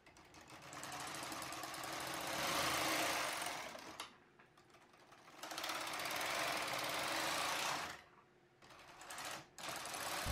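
Knitting machine carriage casting on for 1x1 ribbing, loud buzzing mechanical passes of about three to four seconds each, separated by brief pauses, with no voices.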